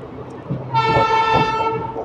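A WAP-7 electric locomotive sounds a long, loud, steady horn as it approaches a station platform, the blast holding for over a second before easing, with faint rail noise beneath.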